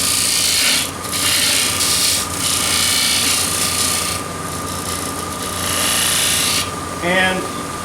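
Continuous close scraping rasp of a box scraper working a turned wooden box on a lathe, with the motor's steady hum underneath and a short squeak near the end.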